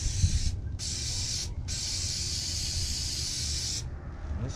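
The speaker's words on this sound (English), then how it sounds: "I'll spray some on here too." A continuous hissing spray of foam from an aerosol can onto an ATV seat, briefly interrupted by two short pauses, close and steady.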